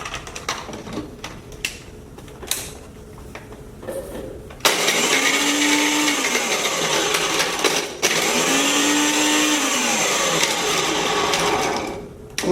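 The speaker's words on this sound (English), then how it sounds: "I'm going to get a couple of cubes and put it in my blender." Ice cubes are crushed in a kitchen blender, which starts with clattering handling, then roars loudly in two long grinding runs broken by a brief pause, with the motor pitch dipping as the ice chops.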